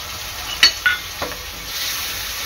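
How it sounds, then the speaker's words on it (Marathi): Finely chopped tomatoes frying with onions in oil for sambar, a soft steady sizzle with a few clinks and scrapes of stirring near the start. "तर ह्यामध्ये टाकणार आहे मी आपला टोमॅटो।"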